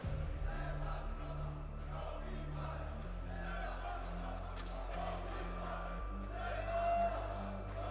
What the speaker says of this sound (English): able to get a cheer out of the crowd